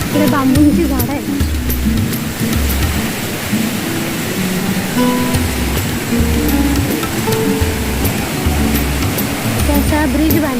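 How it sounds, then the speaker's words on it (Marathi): A stream flows near a waterfall in a Konkan village countryside, making a continuous loud rushing wash of water with people talking over it. "पाण्याचा आवाज तर बघा."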